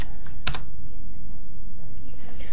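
Someone types a short search on a computer keyboard, with a few light clicks and one sharper keystroke early on, quiet against faint background noise.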